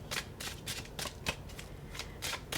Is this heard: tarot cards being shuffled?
yes